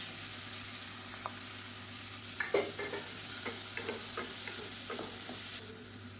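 Tomato sautéing in a pan for a bone soup, with intermittent scraping spoon strokes over a low steady sizzle and a constant background hum, no talking.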